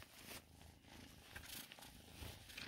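A new kitten purrs up close, a soft, steady rumbling drone with no voices. The kitten is in quarantine and has a cold.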